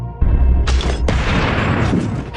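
Pistol gunshot in a film: a sudden loud bang, then two more sharp blasts in quick succession over a heavy rumbling bed that keeps ringing afterward.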